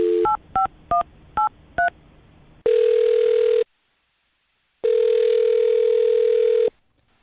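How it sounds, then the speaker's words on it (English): A telephone number is keyed in as five short dual-tone beeps, followed by two long, loud ringing tones separated by a brief silence, with no voices. "I'm going to dial her phone number right now"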